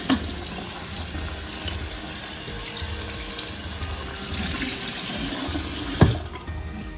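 Warm tap water runs steadily into a sink to wet a washcloth, a soft continuous splashing stream at close range that cuts off near the end with a small clunk.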